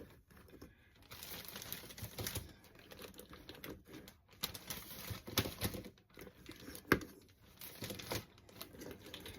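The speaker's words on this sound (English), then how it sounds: "Going to take them and put them into the plastic bag." Quiet, close crinkling and rustling of thin plastic in irregular bursts, with soft taps mixed in.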